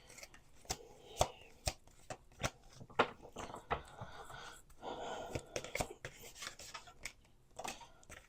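Oracle cards being shuffled by hand, giving quick soft riffling clicks and rubbing bursts in an irregular rhythm, close and quiet with no talking.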